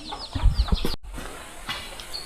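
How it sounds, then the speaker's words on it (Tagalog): On a hillside farm, chickens cluck in short, close, uneven bursts, and faint chick peeps come through afterward in a quieter stretch. "ang dami nilang mga manok dito na may mga sisiw dito sa kanilang farm"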